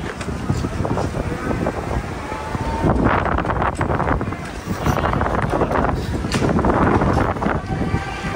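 Cold gusty wind sweeps across the Teesta riverbank as a storm builds with blowing sand and rain nearby, roaring and buffeting the microphone in surging waves, with a voice speaking over it.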